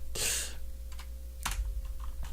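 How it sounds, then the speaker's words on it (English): Typing on a computer keyboard with a microphone in the way produces a few sharp, close key clacks spaced out over a low steady hum. "It's hard to type when there's like a microphone in the way of your keyboard"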